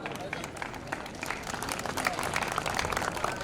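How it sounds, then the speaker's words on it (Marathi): An audience applauds at the opening of a university athletics meet in Nagpur, with dense, continuous clapping that swells slightly, mixed with crowd murmur and voices. "आणि जोरदार टाळ्या वाजवा."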